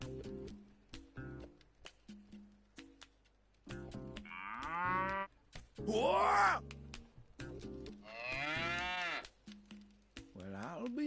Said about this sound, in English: Bororo cattle. Nearly scared my boots off.